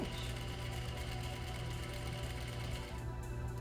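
A sewing machine fitted with a narrow hem presser foot stitches a narrow hem on a pant leg, running loud and close in a dense, continuous motor whir with a rapid needle rhythm and no talking.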